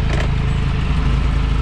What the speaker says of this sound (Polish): Może jeszcze jakąś przebitkę nagrywam z dźwięku silnika samego